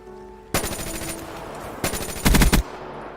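Machine gun fire from Call of Duty Black Ops 4 comes in three quick bursts, each a rapid string of loud, sharp shots, and the last burst is the heaviest, with quiet gaps in between.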